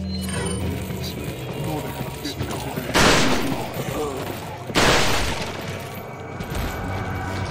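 Weapon reload in Resident Evil 4, two loud mechanical clack-and-rattle bursts a couple of seconds apart over continuous game background noise.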